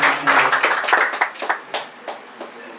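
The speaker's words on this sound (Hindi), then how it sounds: "चलो तालियां बजाओ यार।" An audience at an open mic show in Kinnaur claps in a short, dense burst that thins into scattered claps and fades over a few seconds, heard close with no talk.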